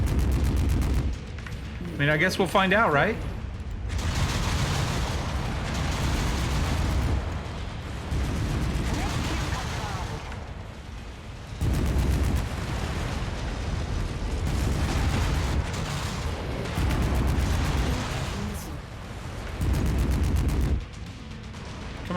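Missile salvos and explosions in the MechWarrior 5 video game, short-range missiles and heavy weapons booming in bursts with rumbling impacts, while someone talks over the gunfire.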